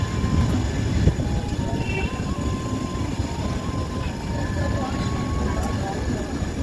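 The Doon Express rolls into a platform at Haridwar station with a loud, continuous low rumble and clatter of the train. Faint squeals and station noise sit on top.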